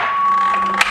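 A blender lid is pried off its jar in a home kitchen: a short plastic click and ratcheting rattle near the end, close and fairly loud over a steady background hum.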